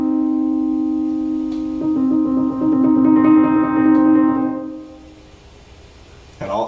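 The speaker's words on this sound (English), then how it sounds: "And a minor third sounds like this." A keyboard sounds a held minor-third chord, notes layering in with a slight wavering shimmer over several seconds before fading out.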